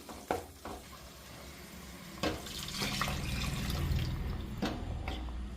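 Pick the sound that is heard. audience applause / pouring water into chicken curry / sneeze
pouring water into chicken curry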